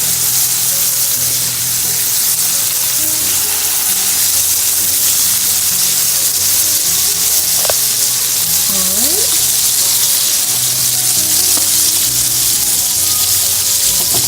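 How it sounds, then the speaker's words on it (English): Steady, loud sizzling of chicken frying in a hot pan, a continuous crackling hiss throughout with a brief clink of utensils midway. "A nice sizzle on that."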